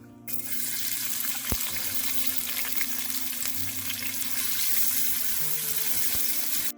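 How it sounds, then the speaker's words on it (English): Sliced onions and dry red chili fry in oil in a pan, a steady close hiss of sizzling oil with a faint low hum beneath, continuous throughout. "Add sliced onions."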